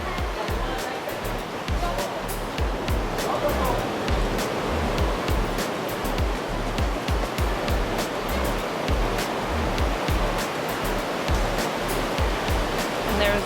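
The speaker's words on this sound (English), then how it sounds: "Whoa, the water's pretty rough." Rough ocean surf at a beach in Uluwatu, Bali, crashes in a steady, loud, broadband roar with continuous churning water and no clear breaks.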